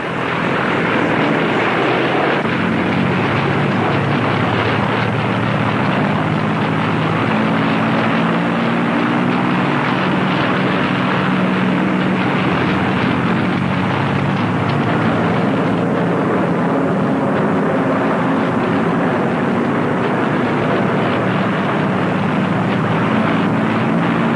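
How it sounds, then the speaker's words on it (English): Loud, steady propeller engine drone fills the air throughout as a heavy bomber takes off into the night in England, roaring without pause. "As KB-700 took off into the English night"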